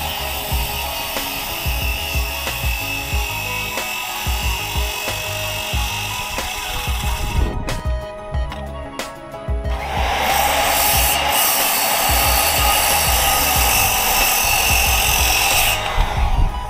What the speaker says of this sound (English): Now I'm just cleaning up the cuts, getting rid of the leftover wood with the reciprocating saw.